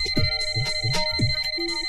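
A phone ringtone plays indoors as a steady electronic melody with sustained tones, fairly loud and continuous over two seconds, with low voice-like murmurs beneath it.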